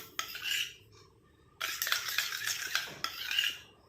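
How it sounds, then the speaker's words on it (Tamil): A spoon stirring a homemade hair dye mixture in a bowl, quick close scraping and clinking strokes in two bursts separated by a short pause, no voices. "இப்போ நல்லா மிக்ஸ் பண்ணியாச்சு."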